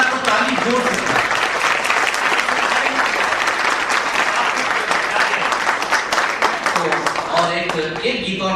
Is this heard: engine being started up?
no